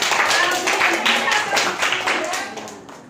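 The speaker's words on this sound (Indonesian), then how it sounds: "Kasih tepuk tangan untuk Alvin." Students in a junior high Indonesian-language classroom clap for a classmate, a short burst of fairly close, rhythmic hand claps that thins out and fades within a few seconds.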